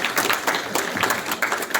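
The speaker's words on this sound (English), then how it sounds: "Round of applause, and then we'll do questions." An audience at an IT summit gives a brief round of applause after a talk, a dense, continuous patter of many hands at moderate distance.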